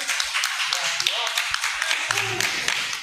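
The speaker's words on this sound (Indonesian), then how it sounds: "Tepuk tangan" Audience clapping at a religious lecture: a brief scattered burst of handclaps that tapers off over a few seconds, fairly close, with a voice talking through it.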